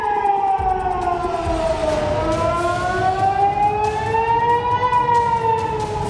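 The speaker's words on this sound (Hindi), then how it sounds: "इजराइल के करीब 80 शहरों में सायरन बजने लगे।" Air raid sirens wailing over Israeli cities during a missile attack, a loud continuous rising and falling tone held steadily throughout, with no voices.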